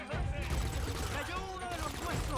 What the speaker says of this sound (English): What the hell is that gun? You guys hear that?